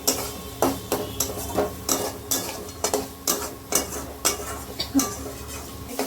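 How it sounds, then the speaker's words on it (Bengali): Spice masala for a kabuli chana curry being stirred and sautéed in a pan, with rhythmic scraping strokes of a spatula about twice a second over a soft background sizzle, close and clear. "ভালো করে কষিয়ে নিই।"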